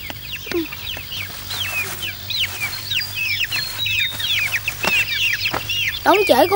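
Chickens cluck and chirp in a busy rural Vietnamese setting, several birds calling in quick overlapping bursts at close range, with faint background noise and some voices.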